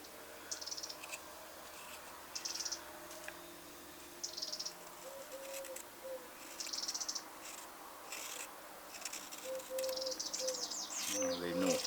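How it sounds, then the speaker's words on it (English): Robin alarm calls warning of a cat sound in short repeated bursts of thin high ticking and chirps in woodland, moderately distant over a quiet background of insect hum. "They changed their call. Robin it is."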